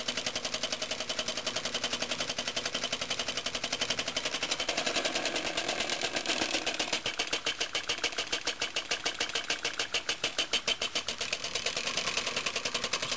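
A small first-built engine runs steadily as its linkage works, a fast regular mechanical clatter with a faint groaning valve underneath, continuous and close.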